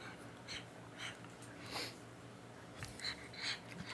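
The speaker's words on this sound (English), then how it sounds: "heavy breathing pug" A pug breathing heavily, with soft, rhythmic snorting wheezes repeating about twice a second, quiet and close.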